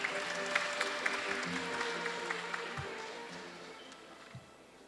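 An audience at a World Peace Day commemoration ceremony applauds to welcome a speaker, giving a steady wash of clapping from a large crowd that holds even for several seconds before slowly fading.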